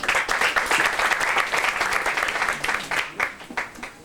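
Audience applause greets a presenter taking the stage at a 1995 intern overseas-training presentation event, with steady dense clapping that thins slightly toward the end.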